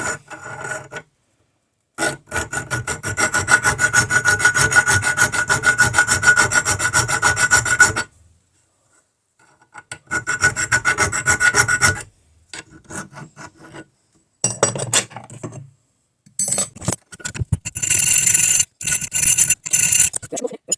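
Steel file rasping by hand across a metal knife blade made from a pipe wrench, in long sustained strokes separated by pauses, close and fairly loud, with a brighter, higher scraping pass near the end.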